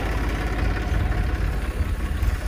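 Eicher 333 tractor engine idling steadily with a low, continuous rumble and slight uneven throb, close and fairly loud throughout, with no talking over it.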